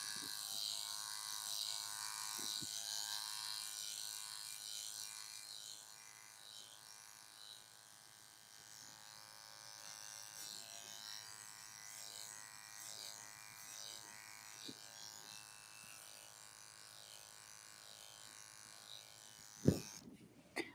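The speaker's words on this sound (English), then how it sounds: "I'm going to go back through on the top with my clipper over comb." Electric hair clippers hum steadily through a clipper-over-comb pass on the top of a descending fade, a close, continuous buzz with faint handling, ending in a couple of sharp clicks.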